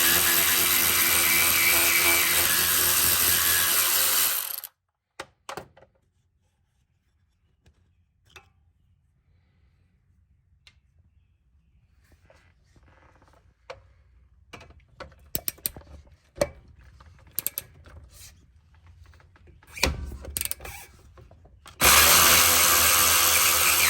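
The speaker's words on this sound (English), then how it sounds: "This takes a 7 millimeter Allen. So now we just got to remove these two bolts." A power driver whirs loudly at the start and again at the end while removing the two front brake caliper bolts on a Passat with a 7 mm Allen bit, separated by a long quiet stretch of scattered metallic ticks and clicks.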